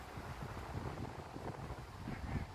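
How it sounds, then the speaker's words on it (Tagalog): Strong wind buffeting the microphone high on the OCBC Skyway, a steady low roar with gusty swells and no talk. "Ang lakas ng hangin dito."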